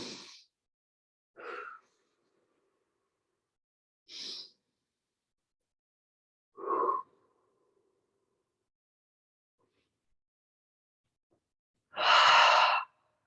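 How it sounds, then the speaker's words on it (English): Breathing during a vinyasa yoga practice: slow, deliberate breaths spaced several seconds apart, soft at first and ending in a long, fuller exhale, heard close and alone in silence. "Breathing here."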